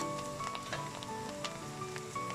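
Beef pieces sizzle as they go into a hot pot for a namkeen gosht, a crackling, spitting fry with small pops scattered over a steady hiss, close and fairly quiet.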